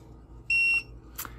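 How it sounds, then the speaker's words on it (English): A single short electronic beep from a TechnoRV TST 507 monitor entering programming mode, clear and high-pitched, over faint background hum, followed by a brief click. "press and hold the set button till you hear a beep"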